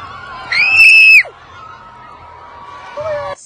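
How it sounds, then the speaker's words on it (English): A woman screams loudly and shrilly at a concert, one sustained high scream over crowd noise, followed by quieter voices and a second short shout. "that's how I was screaming the entire night"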